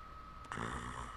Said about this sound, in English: He's snoring!